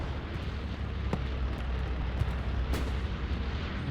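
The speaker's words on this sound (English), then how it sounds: "Bombing run." Bombing-run explosions rumble through a Hell Let Loose competitive match as a dense, continuous barrage, with a few sharper cracks standing out above the steady roar.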